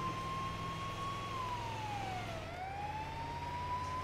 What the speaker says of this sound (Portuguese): Ele já deve estar ouvindo a sirene da nossa viatura.